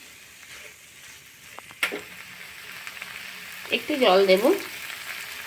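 Spiced masala fries in hot oil in a pan with onion and salt for a fish curry. The sizzle is close and steady, with spattering crackles and a brief stir, and someone speaks over it.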